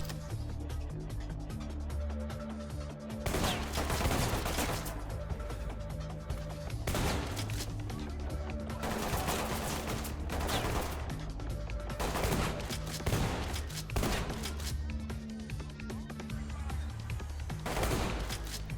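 Ready Or Not apartment firefight: repeated bursts of rapid gunfire, sustained fusillades and scattered single shots over a steady low game-music and ambience bed.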